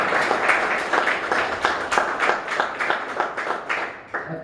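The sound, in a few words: audience applause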